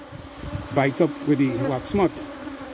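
Honeybees working a hive super that sat in storage for a long time drone steadily at close range, a continuous buzz running beneath a voice as he talks.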